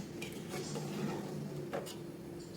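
Mutton masala is stirred in a pot, giving faint scraping and a few soft metallic clinks of a spoon against the pan over a low, steady background sizzle.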